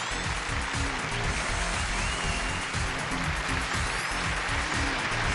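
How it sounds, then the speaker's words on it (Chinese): A studio audience at a television relationship talk show claps for arriving guests, dense, loud and continuous applause that fills the whole stretch without pause. "掌声有请这一对，有请"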